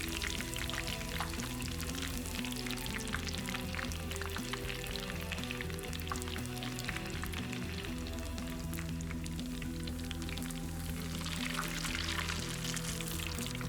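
Bitterballen drop into hot frying oil at about 180 degrees, setting off a continuous dense sizzle and bubbling that holds steady throughout, close and fairly loud.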